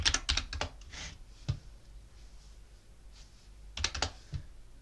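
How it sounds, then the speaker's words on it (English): Password being typed on a computer keyboard: quick bursts of crisp key clicks, a pause with a single tap, then another short flurry of keystrokes, close and clear in a quiet room. "type in your password"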